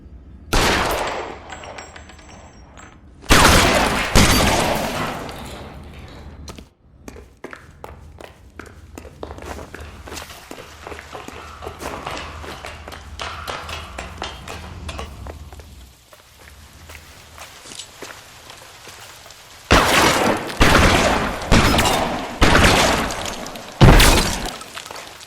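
Gunfire in the L.A. Noire video game shootout: loud, close bursts of rapid shots and shattering impacts open and close the stretch, with quieter scattered pops and rain-like crackle in between, no talk.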